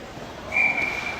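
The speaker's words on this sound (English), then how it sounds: "We got a whistle." A referee's whistle sounds during a hockey game, one sustained shrill blast of about half a second with a short follow-on chirp, clear and fairly close over the rink's background noise.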